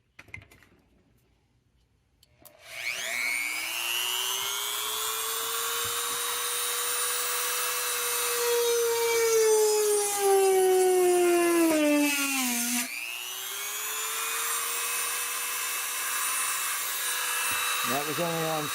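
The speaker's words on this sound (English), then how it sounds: "we'll drill a hole through it." A Depstech DM180 rotary tool spinning up and drilling a hole through a block of wood, a loud high-pitched whine that rises, strains and dips in pitch as it bites, then winds back up; nearby and sustained.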